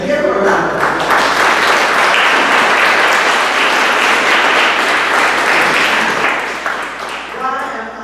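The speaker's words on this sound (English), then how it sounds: "Give him a round of applause." A crowd at a town hall meeting on homelessness at a Teamsters hall applauds loudly and steadily, sustained clapping that tapers near the end as a voice begins over it.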